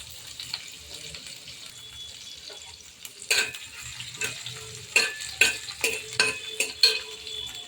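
Garlic and a spoonful of cumin sizzle in a little oil, with a steady frying hiss broken by a series of sharp stirring clinks and scrapes against the pan in the second half.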